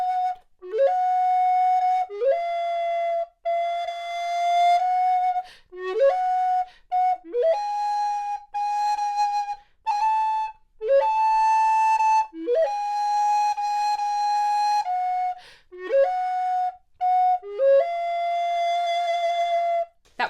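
Solo baroque recorder playing Marais's Couplet de Folie, a bright, breathy melody of short arpeggiated phrases with quick upward-sliding note attacks and brief gaps, close and clear with no voices.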